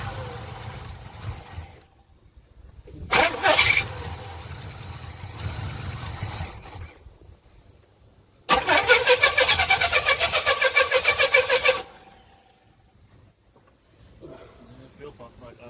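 A long-neglected Pontiac Trans Am, sitting over twenty years with a suspected fuel pump or clogged carburetor line, cranks in a loud rapid rhythmic burst of starter turnover, with engine noise and people talking before and around it.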